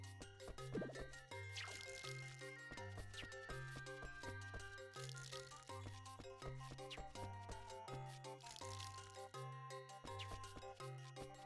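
In the farming game Rune Factory 2, a watering can pours water onto crops with soft trickling and dripping effects, heard over looping, cheerful game background music that carries on throughout.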